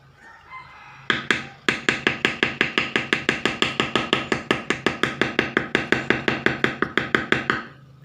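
A hammer drives a tool along the outer lines on a piece of leather, giving a fast, even run of close, sharp knocks, about three or four a second, that goes on steadily for several seconds.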